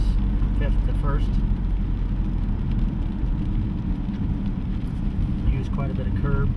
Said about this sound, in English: We'll go down all the way through the gears, fifth to first.